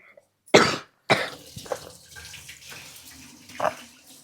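A kitchen knife is rinsed under running tap water, giving a few short, close splashing bursts with gaps between them and a brief cough or throat noise nearby.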